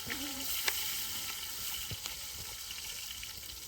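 Hot oil sizzles steadily in a pan as chillies go in for a village-style chicken biryani, a continuous close frying hiss broken by a few sharp pops, with no talking.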